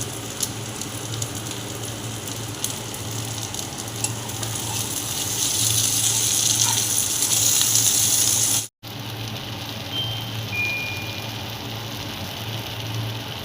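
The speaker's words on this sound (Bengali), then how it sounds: "পেঁয়াজ আর ক্যাপসিকামটা ভাজা হয়ে গেছে, টমেটো কুচিটা দিয়ে দিচ্ছি, আর সঙ্গে রসুন কুচিটা দিয়ে দিচ্ছি" Onion, capsicum, chopped tomato and garlic fry in a pan, a steady close sizzle with soft stirring scrapes running throughout, briefly interrupted once.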